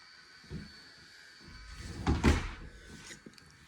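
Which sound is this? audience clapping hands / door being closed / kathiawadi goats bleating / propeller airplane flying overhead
door being closed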